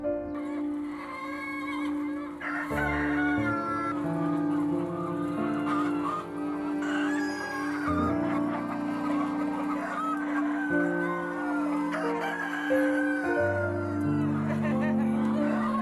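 Many chickens cluck and chatter on a Korean poultry farm spared from a culling order, with a rooster's drawn-out crow standing out over the busy, continuous flock noise at close range.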